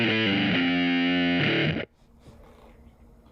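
An electric guitar through an Empress ZOIA pedal's overdrive and fuzz distortion rings out as one loud, thick sustained chord that cuts off abruptly, leaving a faint hum.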